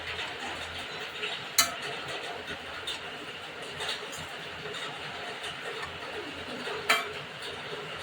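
Shredded chicken cooked with turmeric, salt and pepper powder is stirred in a pan, with steady scraping and soft sizzling throughout and a couple of sharp clinks of the utensil against the pan.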